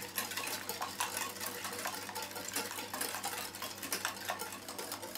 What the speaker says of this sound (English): now you have to beat it nicely with the help of a manual whisk